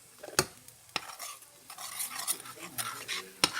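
Eggs stirred in a pan for Louisiana-style eggs and rice with sausage: sharp utensil scrapes and clinks against the pan over a light, soft sizzle, close up with no voices.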